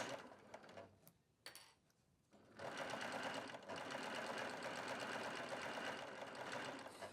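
A Baby Lock sewing machine runs a seam on a handbag, its motor humming in a steady close stitching run after a few seconds of quieter handling and brief starts.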